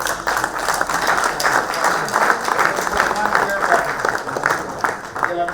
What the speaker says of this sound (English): I want a round of applause for the current administration.